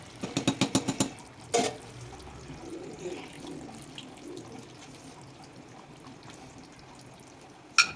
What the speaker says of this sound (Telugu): ఇప్పుడు దీంట్లో లాస్ట్కి నిమ్మరసం పోసుకోవాలి.